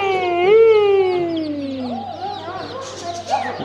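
A bird cries out in a long, drawn-out call that slides downward, followed by softer clucks and chatter from nearby chickens, in Japan.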